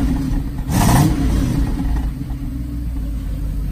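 Mercedes SL500 Koenig Specials V8 idling through a replacement tailpipe that once had a full Remus exhaust line, a steady low rumble with a brief louder swell near the start.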